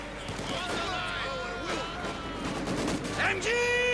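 Machine-gun fire and battlefield combat from Company of Heroes 2 (MG42 and Maxim guns in winter fighting) crackle steadily, mixed with bursts and effects under continuous commentary.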